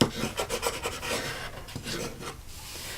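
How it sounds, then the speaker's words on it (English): Paper pieces on a Stampin' Up! Christmas gift card holder are burnished by hand, giving a close, dry rubbing and scraping with quick rhythmic back-and-forth strokes for about three seconds, with no voice. "And we'll want to burnish those so they stick really good."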